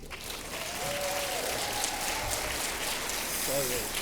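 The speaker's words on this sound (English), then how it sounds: "will you please join me in a wonderful round of applause and greeting for James Watkins" Audience applause greets James Watkins, the saggar-firing presenter, a steady broadband wash of clapping held at an even level throughout, with faint voices murmuring underneath.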